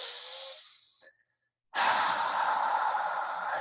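Deep breathing during a visualization exercise: a long, close exhale, a brief pause of silence, then a strong inhale that goes on steadily, with no talking.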